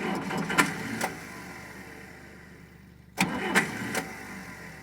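A tractor with a weak, freshly charged battery cranks on a cold start after a shot of ether; two bursts of loud grinding cranking with sharp knocks, separated by a short pause, close by.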